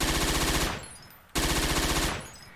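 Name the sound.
Thompson submachine gun rapid fire in a video game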